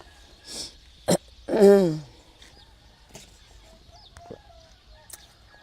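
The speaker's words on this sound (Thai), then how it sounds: "ให้อาหารไก่" Chickens cluck and squawk during feeding outdoors, a few sharp calls and one louder drawn-out squawk early on, followed by faint scattered clucks against a quiet background.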